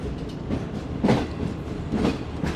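Passenger train rolling between mountains on the approach to Rohri Junction, heard from inside a parlour car: a continuous loud rumble with rhythmic clickety-clack wheel beats roughly once a second, no speech.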